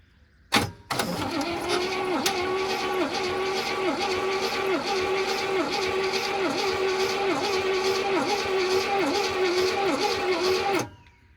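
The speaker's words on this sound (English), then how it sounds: "Well, motor turns over, so that's a good thing." A 1972 Buick Skylark engine, left sitting for years, cranks over on its starter in a steady, loud, rhythmic churn lasting about ten seconds without catching, ending abruptly, with a brief click just before.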